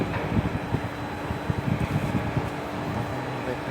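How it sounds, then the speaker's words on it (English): Strong outdoor wind buffets the microphone in uneven, gusty rumbles, with a constant airy hiss behind the bursts. "It's super windy outside."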